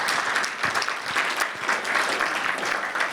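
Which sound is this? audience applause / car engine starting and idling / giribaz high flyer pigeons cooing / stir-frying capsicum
audience applause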